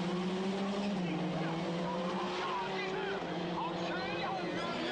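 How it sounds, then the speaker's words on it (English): Rallycross cars sweep through a forest left-hander at a Swedish European Championship round, tyres screeching in wavering squeals over steady, loud engine drone, with commentary running underneath. "Screeching tyres as they come around the left-hander through the forest."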